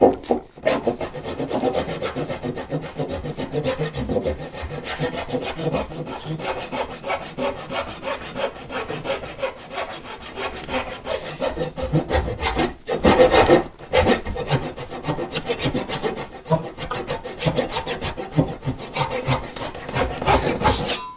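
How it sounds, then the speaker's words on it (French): A handsaw rips along the grain of a wooden board to cut a tenon for a saw rack, with continuous close, rasping back-and-forth strokes in a steady rhythm. "Toujours un petit peu compliqué de scier droit quand on déligne."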